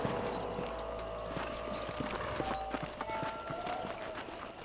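Horse hooves clip-clopping at a steady trot across rough canyon ground in the video game Red Dead Redemption, with scattered snorts and a whinny mixed into a busy outdoor soundscape.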